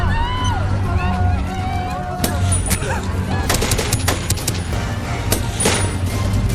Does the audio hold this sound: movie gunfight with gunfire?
yes